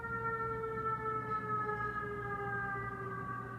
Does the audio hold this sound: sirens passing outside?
yes